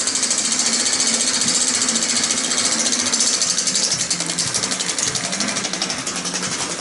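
A 1908 Empire 35mm Cinematograph film projector runs with a fast, steady mechanical clatter and rattling whir, loud and close, holding an even rhythm throughout without talk.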